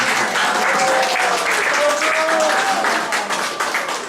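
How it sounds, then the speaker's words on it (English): An audience at a spring choir concert gives the staff one big round of applause, dense continuous clapping that stays loud for several seconds with a few voices rising above it. "let's just give one big round of applause to our staff"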